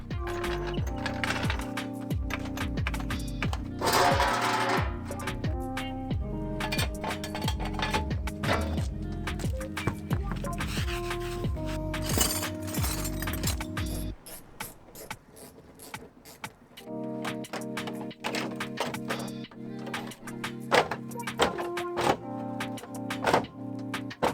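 Work on removing the fender of a Lexus LS400: steady metallic clanks, thunks and ratcheting tool sounds that go on almost without pause, loud and close, with a brief quieter stretch partway through and no talking.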